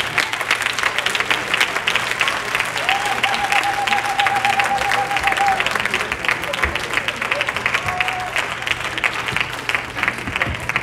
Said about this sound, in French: So, on peut les applaudir un peu.